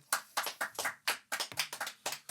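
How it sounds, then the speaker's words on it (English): A short burst of hand claps comes at a brisk, even pace, about a dozen sharp slaps, close and clear with no talking. "Let's give a round of applause for that shit."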